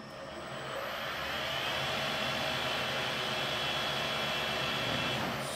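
Metal lathe driven by a Marathon motor through a variable-frequency drive, running in reverse: a steady, close whine and whir holding constant with a faint high tone above, no speech.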